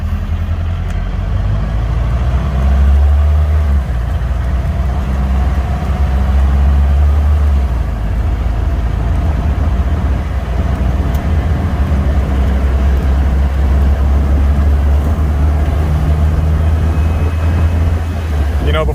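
A Mahindra Roxor fitted with Bilstein 5125 shocks drives at around 50 mph over a rough road, its engine and tyre rumble a loud, steady low drone throughout with constant road noise and bumps.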